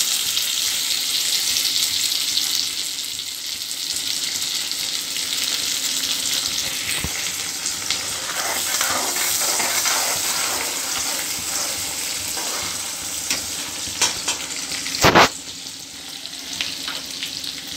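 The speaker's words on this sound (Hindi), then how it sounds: "प्याज को थोड़ी देर के लिए फ्राई होने के लिए छोड़ देंगे।" Onions frying in a pan for a masala dosa filling, a loud continuous hissing sizzle with a few clatters and a sharp knock near the end, heard alone up close.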